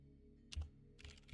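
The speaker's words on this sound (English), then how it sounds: "Wow, I can't type at all." A few quick taps on a computer keyboard, soft and close, in two brief bursts with short pauses between them in a quiet room.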